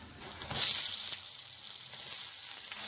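Oil sizzles steadily in a pan, with a louder hiss burst near the start as finely chopped tomatoes are added, then a continuous crackling fry.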